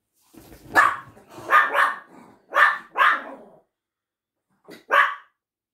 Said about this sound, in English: Oh, wish the dog shut up. Why do they have to bark at everything all the time?